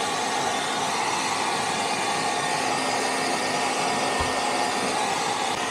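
A blower dries a dog after grooming, giving a steady, loud, continuous rushing roar that holds evenly from start to finish with no talking.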